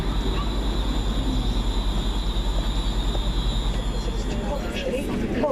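Interior of a train running toward London Euston, a loud, steady rumble with a rapid rhythmic wheel beat and a faint high whine, and voices in the background.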